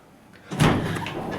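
A hotel room door swinging open with a soft thud and a brief rush of air, close and moderately loud, with no talking.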